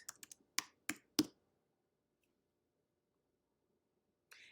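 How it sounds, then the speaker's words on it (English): Quick, crisp taps on a computer keyboard come in a short burst of about six keystrokes close by, followed by silence and one soft final tap. "You're going to go to images over here, and you're going to type in peeps."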